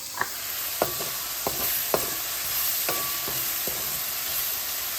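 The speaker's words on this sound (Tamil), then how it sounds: "தக்காளி பழமும் போட்டு வதக்க வேணும்" Cabbage and tomato sauté in a pan under a continuous soft sizzle, with several sharp taps of a spoon against the pan spaced irregularly through the first half, nearby and moderately loud, no voices.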